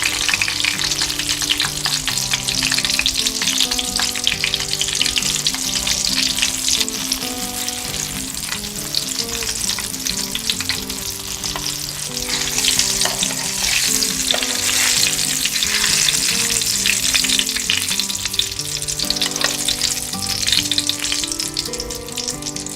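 Eggplant (talong) slices fry in hot oil, crisping toward golden brown, giving a continuous dense sizzle and crackle that runs unbroken throughout.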